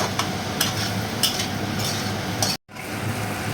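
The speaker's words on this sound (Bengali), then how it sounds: "তারপর এই লঙ্কার গুঁড়োটা দিয়েও আমি আবার 1-2 মিনিট মশলাটাকে ভেজে নিচ্ছি।" Masala frying in oil with Kashmiri chilli powder for a Bengali crab and potato curry, a steady close sizzle with periodic scraping stirs and light utensil clinks, broken by a brief silent gap.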